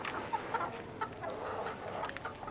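Chickens cluck softly and intermittently nearby, a scatter of short clucks over faint background noise.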